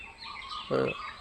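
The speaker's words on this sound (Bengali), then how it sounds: "চারিদিকে পাখির" Soft bird chirps sit over a quiet outdoor background, with one short, louder clucking call from a nearby fowl.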